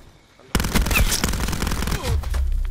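Rapid automatic gunfire in Call of Duty Black Ops 4 erupts after a half-second of quiet and runs loud and continuous to the end, with bursts of shots and game effects layered on top.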